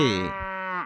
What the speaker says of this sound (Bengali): গরু বাছুর